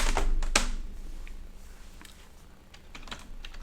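Keystrokes clatter on a cheap, disliked computer keyboard sitting in a desk tray, a quick burst of sharp clicks at first and then scattered, quieter taps spread across a few seconds.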